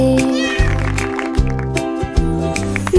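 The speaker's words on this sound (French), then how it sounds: "Le chat ronronnait de joie et de bonheur." A cat meows clearly and repeatedly in a French children's nursery rhyme, the close cries set over a sustained musical backing.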